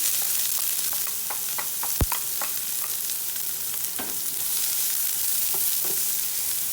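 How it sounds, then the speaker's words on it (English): Chopped onion sautés in hot oil with whole red chilies, giving a continuous bright sizzle dotted with crackles and pops, one sharp knock of a utensil against the pan partway through, close and without speech. "This half cup of onion. I'm going to saute it."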